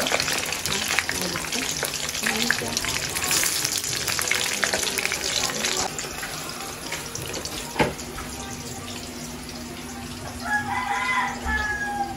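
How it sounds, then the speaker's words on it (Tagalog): Steady, crackling sizzle of hot dogs frying in a hot pan, continuous and close, with occasional louder pops and clinks. "nagpiprito po tayo ng hotdog para sa pang-umagahan natin"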